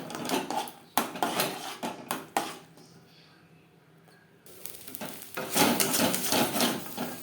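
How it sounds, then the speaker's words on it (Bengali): Green banana peel stirred in a kadai over a low-medium flame, with a spoon scraping and clattering against the pan in repeated bursts, quieter in the middle, and a faint sizzle underneath. "লো টু মিডিয়াম ফ্লেমে নাড়াচাড়া করে শুকনো করে নেব"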